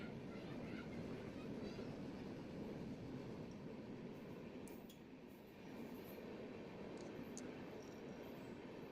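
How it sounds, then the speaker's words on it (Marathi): A train arrives at a station with a faint, steady rolling rumble. Brief high squeals and clicks come in toward the end. "तर आपली ट्रेन येते आता."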